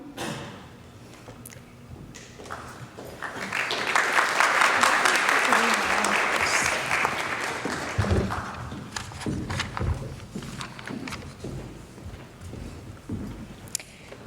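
Audience applause at a high school National Honor Society induction ceremony swells in the middle and then fades to scattered claps and shuffling, moderately distant in a large hall.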